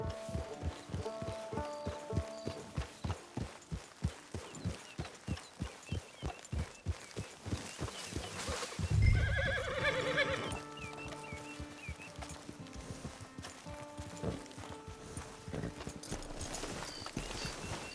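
Horse hooves clip-clop at a steady walking pace in the Red Dead Online game, with a brief louder snort or neigh midway and soft ambient background sounds.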